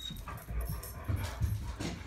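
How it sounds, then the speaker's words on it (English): A dog whimpers and whines in short, restless bursts close by, with low scuffling and movement underneath; no clear talk over it. "There's a dog here."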